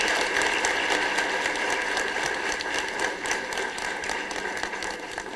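Audience applause at a Marathi public event, a dense, steady wash of clapping from many hands that holds throughout and eases slightly at the end, without speech.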